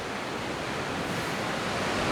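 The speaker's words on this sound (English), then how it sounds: "That is a body of water. It's the sea, the North Sea in fact." Waves of the North Sea wash in a steady, dense roar of surf, fairly close and constant, with some wind buffeting and no voices.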